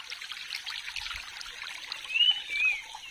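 Water trickling from a clean village drinking-water source near Udayagiri fort, a soft, steady close-up dribble with a faint bird chirp near the end.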